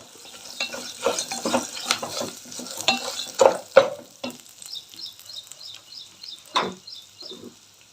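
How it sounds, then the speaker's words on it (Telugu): Okra pieces with turmeric stir-frying in a pan for a pickle, giving a soft, steady sizzle with scattered clinks and scrapes of a utensil stirring against the pan, fairly quiet and close. "ఇప్పుడు కొంచెంసేపు ఇంకొక రెండు నిమిషాలు వేయించుకున్నాం వీటిని"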